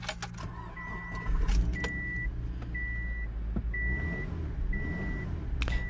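Subaru Forester after a downstream catalytic converter replacement, heard from inside during a test drive: a low, steady engine and road rumble with a few faint clicks and intermittent chimes.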